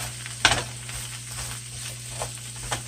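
Giblets for gravy sizzle quietly in a pan while being stirred, with occasional light scrapes and one sharper clink of a utensil against the pan over a low hum.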